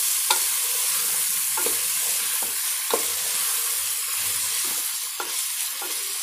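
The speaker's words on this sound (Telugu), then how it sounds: "ఇవన్నీ బాగా కలిసేలాగా కలుపుకోవాలి." Vegetables for veg biryani fry in a pan while being stirred, a dense continuous sizzle broken by several spoon scrapes and knocks against the pan, close and loud with no talk.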